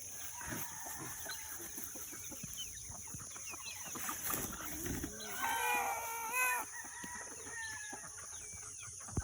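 Native chickens clucking and a rooster crowing in a rural yard, a busy overlapping chorus of calls throughout with a louder burst of crowing midway, fairly close.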